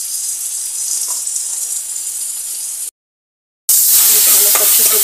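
Spice masala of cumin-coriander powder, red chilli powder, garlic paste and salt sizzles loudly in a pan while being stirred, a bright steady hiss near the mic, cut by a short gap of silence before resuming.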